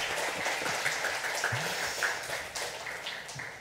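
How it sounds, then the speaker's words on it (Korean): A church congregation claps in welcome, a steady patter of many hands sounding close and evenly spread, with no talking over it. "우리 크게 우리 환영의 박수 할까요?"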